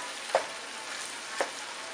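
Onions and vegetables sauté in a pan while being stirred, giving two short, soft scraping strokes about a second apart over a quiet, steady sizzle.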